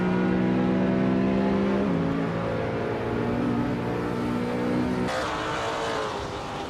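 Race cars in a video game race, their engines droning loudly and up close, with pitch shifts as gears change and a sharp jump in tone near the end as another car roars in.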